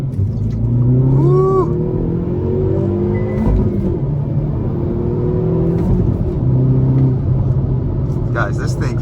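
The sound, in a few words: 2022 Hyundai Veloster N 6-speed manual accelerating on highway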